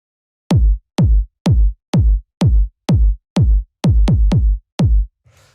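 Deep, punchy two-layer electronic kick drum for deep minimal house, about ten hits in a steady beat with a quick double near the end, each with a sharp attack and booming low tail, alone.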